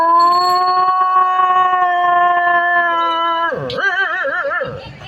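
A voice imitates a long, sustained dog howl that ends in a wavering, warbling cry, loud and close with no other talking.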